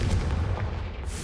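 A Confringo fire-curse blast in Hogwarts Legacy lands as one heavy, booming explosion that rolls and decays over about a second, loud and alone with no talk.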